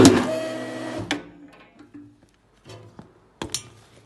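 MICRON MH-5 hydraulic grommet attaching machine setting a grommet into a banner, a loud close mechanical whir that cuts off sharply, followed by quieter clicks, a soft hiss and a final sharp clack.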